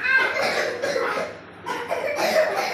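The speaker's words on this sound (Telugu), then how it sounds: "ఎలా దగ్గాలి ఒకసారి చూపించరా?" A child fakes a cough on request, a few short forced coughs broken by a brief pause, mixed with giggling and light chatter nearby.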